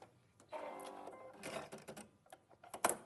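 A domestic sewing machine runs in short, rattling bursts with mechanical clicks and whirring, close to the microphone and fairly quiet, with no talk over it.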